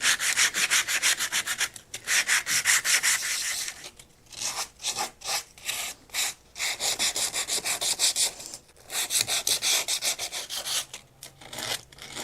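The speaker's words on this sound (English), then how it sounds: "going to start with the hand sanding" Sandpaper rubs by hand around the finger holes of a wooden cutting board in rapid back-and-forth strokes, close and scratchy, coming in bursts separated by brief pauses.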